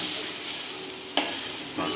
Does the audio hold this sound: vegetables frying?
yes